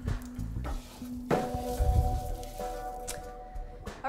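Baby bella mushrooms are stirred in a pot, a soft sizzle running beneath scraping and squishing stirs, with light clinks of utensil against the pan.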